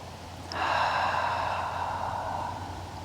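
Slow, deep breathing during a gentle yoga pose: one long, steady airy breath begins abruptly and holds at a moderate level against a low background hum.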